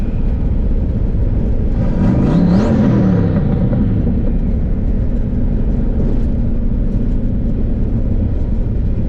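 A car fitted with a faceplated Tremec TKO/T56 transmission revs down as it rolls to a stop, a loud continuous low engine rumble with a brief rising-and-falling whine near the middle, no talk.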